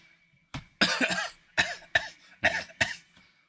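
Several harsh coughs come in a quick series of separate bursts, close and fairly loud, with short quiet gaps between them.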